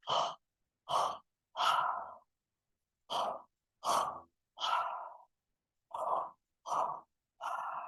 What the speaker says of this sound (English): breathe in, into the belly, into the chest